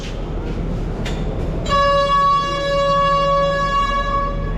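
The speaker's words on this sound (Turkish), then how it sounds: "Bir yeni tren daha kalkıyor kendiden." Steady rumbling train noise at a station in Sri Lanka; partway through, a sustained tonal whine rises as the train pulls away, continuing to the end.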